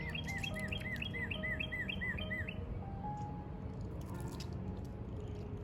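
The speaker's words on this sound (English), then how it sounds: "The birds are singing." Birds sing outdoors in early spring at about six degrees, a repeated chirping phrase in a quick run over steady low background noise, then scattered fainter calls.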